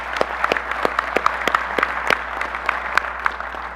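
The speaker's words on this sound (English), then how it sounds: "Let's give those folks a round of applause." A room of people at an annual business meeting gives a round of applause: steady mid-level clapping with sharp individual claps standing out at a regular pace.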